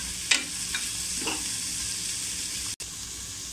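Onion, ginger and garlic sautéing in a pressure cooker, a steady close sizzle with a few scraping stirs early on, no voices.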